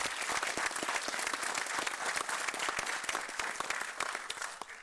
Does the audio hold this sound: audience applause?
yes